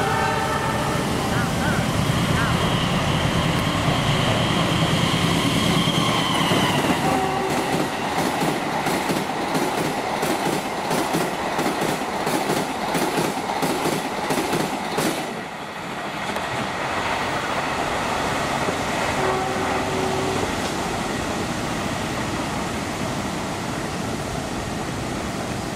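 The Argo Parahyangan train races past at high speed on an Indonesian line, a loud sustained roar with rapid rhythmic clickety-clack of wheels over rail joints that fades as the carriages clear.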